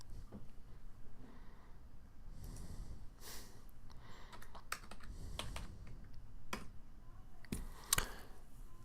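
Quiet typing on a computer keyboard while entering math homework answers, irregular soft key clicks scattered over several seconds with faint breathing and room noise.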